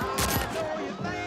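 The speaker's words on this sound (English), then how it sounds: "Shots fired!" Gunfire in a Netflix action film, a dense burst of shots blended with a music score and effects that keep the whole moment loud.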